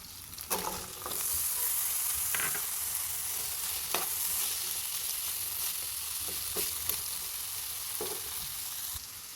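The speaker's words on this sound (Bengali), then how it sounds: "এখানে আলু আর গরুর মাংসটা ভালো করে ভাজা করে নিয়ে তুলে ফেলবো।" Diced potatoes and beef fry in a pan with a steady, even sizzle, punctuated by several sharp scrapes and taps as they are stirred.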